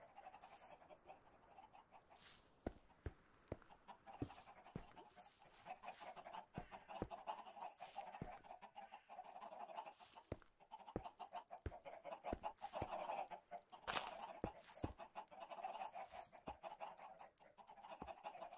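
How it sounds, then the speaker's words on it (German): Minecraft chickens clucking repeatedly in a close, busy flock, with sharp irregular clucks and squawks over a steady low background, fairly faint overall and with no speech. "Ja, die Hühner sind ziemlich laut, aber das sollen auch Hühner sein."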